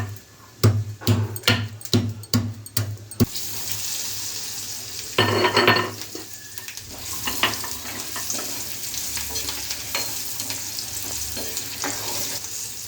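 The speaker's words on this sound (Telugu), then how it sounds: "కొంచెం వెల్లుల్లి రెబ్బలు క్రష్ చేసుకొని వేసుకుందాము." Crushed garlic cloves hit hot oil in a pan for Andhra-style gongura pickle, giving a steady close sizzle that follows a burst of sharp knocks and clatter, with a louder splash of frying partway through and no talking.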